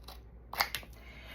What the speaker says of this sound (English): So I'm going to cut it right up there